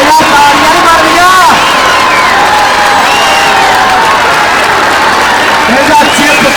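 Spectators at a club cricket match between Gillani Club and United Tiger Club clap and cheer loudly and continuously, with shouting voices rising over the roar.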